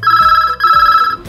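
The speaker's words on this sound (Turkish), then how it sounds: "Telefonum çalıyor." A telephone rings loudly and close, with two trilling bursts in quick succession that each warble rapidly, and no one speaks.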